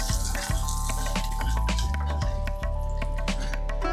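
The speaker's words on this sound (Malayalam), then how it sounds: "വറ്റൽമുളക് ഇട്ട് കൊടുത്തു കറിവേപ്പില ആഡ് ചെയ്തിട്ടുണ്ട്" Dried red chillies and curry leaves sizzle in hot oil as a tempering for an Onam peach pulissery, giving a steady crackling fry with occasional stirring knocks over a constant tonal hum.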